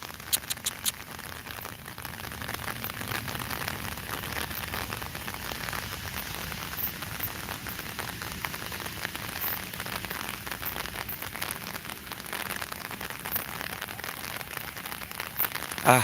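Rain falls steadily in Sylhet during the dry winter season, a soft, continuous patter of drops on surfaces with scattered sharper ticks and no voices.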